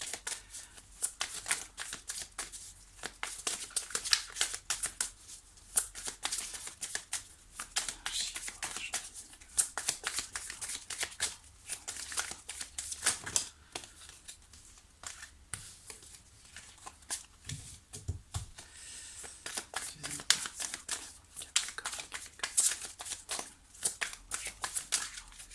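Tarot cards being shuffled and cut at a table, a steady run of crisp, papery riffling and flicking bursts that continues nearly throughout, fairly close and moderately quiet, with no talk over it.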